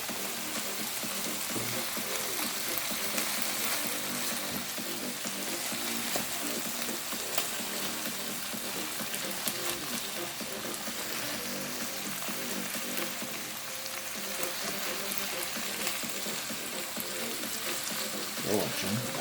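Corned beef sizzles as it goes into a pot of simmering green bananas, a soft, continuous crackle and hiss at moderate distance, fairly quiet, with occasional stirring sounds.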